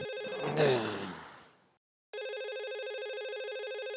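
A breathy exhale fades out, a brief silence follows, then a telephone begins ringing with a steady, continuous electronic trill.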